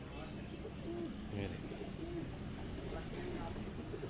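A pigeon coos a few times from a rooftop loft in Kasur, soft repeated calls close by over a low hum of background noise, with someone talking nearby.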